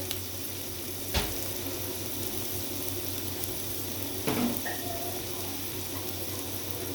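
Chopped carrot, capsicum and onion sizzle steadily in a hot pan for mixed vegetable kebabs, a constant close frying hiss broken by two brief utensil clatters.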